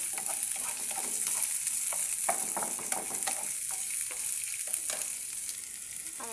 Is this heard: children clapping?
no